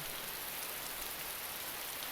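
Steady rain pours down in the DayZ survival game, an even, dense hiss of drops on surfaces that holds constant from start to finish with no voices over it.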